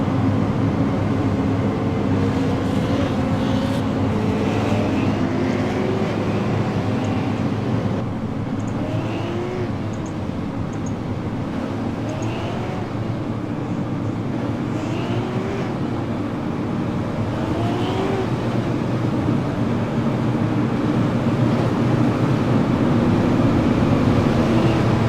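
Super late model race car engines roar around the oval at New Hampshire Motor Speedway in an iRacing simulation, a loud continuous drone with rising and falling pitch as cars cycle through gears and pass.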